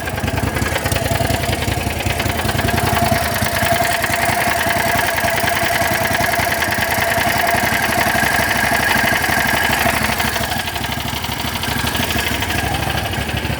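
A John Deere GT225 lawn tractor engine idles steadily and close by, with a continuous rough, throbbing mechanical drone that carries a slight knocking vibration throughout. No talk is heard.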